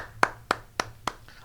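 Hands clap four times in an even, moderate rhythm, each clap sharp and close, followed by a fainter fifth tap, with quiet in between.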